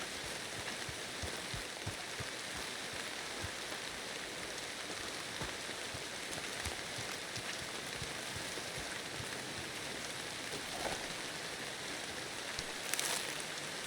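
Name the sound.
rain falling on surfaces in Red Dead Redemption 2 video game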